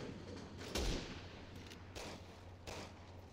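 Pistol shots from the co-op shooter game Resident Evil 6: a sharp, loud report near the start, followed by two softer shots spaced about a second apart, over steady game background noise.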